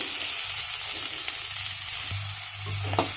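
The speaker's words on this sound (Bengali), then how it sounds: "তার কিছুক্ষণ এভাবে নাড়াচাড়া করে ভেজে নেবো" Cauliflower frying in a pan, a steady hiss broken by occasional clicks and scrapes of stirring, with a low hum partway through.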